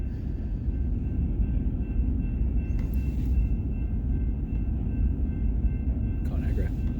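A freight train of empty cars rumbles past in a constant low, heavy roll with faint squeals and clanks, steady throughout, as people talk over it.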